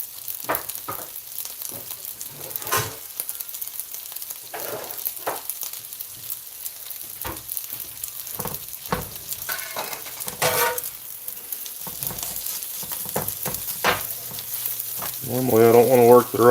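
Sweet chili pork fried rice sizzling in a pan while a spatula stirs and scrapes it, a steady crackling fry with intermittent scraping clatter and a faint voice near the end.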